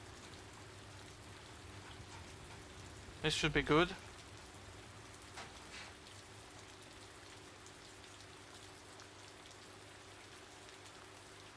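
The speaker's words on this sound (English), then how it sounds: "The game is probably a bit still too loud with the rain" Soft, steady rain patters continuously in the driving game Central Europe Drive, kept low in the mix, while a voice speaks briefly near the start.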